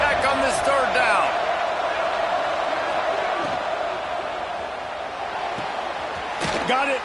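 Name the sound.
football stadium crowd cheering on third down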